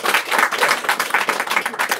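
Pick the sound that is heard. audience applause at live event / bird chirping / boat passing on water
audience applause at live event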